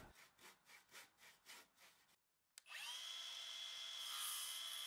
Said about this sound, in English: I'm going to do that with my handsaw for the crosscuts.